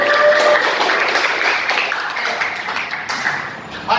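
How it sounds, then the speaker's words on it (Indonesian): Students in a classroom clap their hands together, a dense, fairly loud patter of overlapping claps that carries on for several seconds before trailing off. "Tepuk tangan untuk kalian semua."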